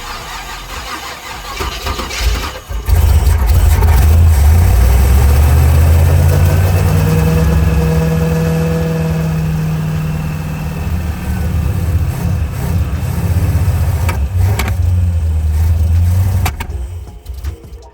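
A 1984 Corvette with a 357 small-block V8 and AFR heads cranks briefly, then catches and roars into a loud, rumbling idle that holds close for over ten seconds before the revs dip and fall.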